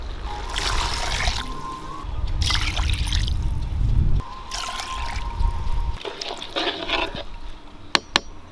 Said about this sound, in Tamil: தண்ணி சேர்த்திக்கலாம்ப்பா.